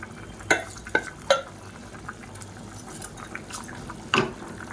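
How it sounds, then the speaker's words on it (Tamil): Soaked basmati rice tipped into a pot of boiling water for peas rice and gently stirred, giving a few sharp, separate clinks and taps over a quiet, steady bubbling background. "இப்போ தண்ணி நல்லா கொதிக்க ஆரம்பிச்சிருச்சு. இப்போ ஊற வச்சுருந்த அரிசியை சேர்த்துக்கலாம்."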